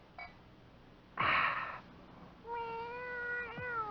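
A house cat meows in an old-time radio detective drama: a short noisy thud comes first, then a single drawn-out, close meow that rises and bends near the end, with no talking.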